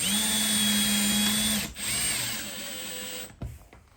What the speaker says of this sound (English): I'm just going to put the screws in just below the surface of the plywood